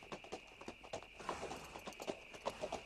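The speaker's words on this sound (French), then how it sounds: "on est parti à cheval vers la ville de Georges" Horse hooves clip-clop in a quick, irregular rhythm during a ride toward a town, the footfalls moderately close and faint over a quiet background with a steady high hum.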